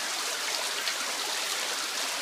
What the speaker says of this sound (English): This is a glacial river